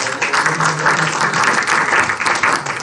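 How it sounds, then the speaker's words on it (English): A tech talk audience applauds a volunteer called up on stage, a dense, even wash of clapping that holds at full strength for a few seconds. "So can we give Dolph a round of applause?"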